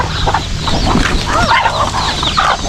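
Several farmyard chickens cluck and chatter continuously at close range, with a red rooster among them. The bird calls are loud and busy throughout, with no speech.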